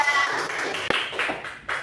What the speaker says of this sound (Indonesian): tepuk tangan buat Indah